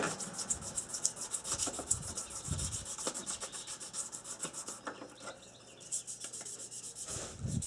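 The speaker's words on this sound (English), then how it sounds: "we'll go over it with finer sandpaper, the 800 grit" Hand sanding an aluminum motorcycle part with fine 800 grit sandpaper, a close, continuous rhythmic rubbing with repeated back-and-forth strokes and a short pause near the end.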